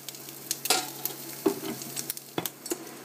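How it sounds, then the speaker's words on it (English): Corn searing in a hot pan with rendered bacon fat gives a steady, soft sizzle broken by sharp clicks and scrapes of a utensil stirring, close and without any talk. "A bit of the fat has rendered out of that bacon and been absorbed by the corn."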